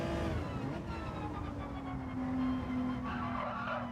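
A Gran Turismo 7 race car skids over a curb, its tyres scrubbing harshly over a steady, whining engine note that holds throughout, close and loud with no speech.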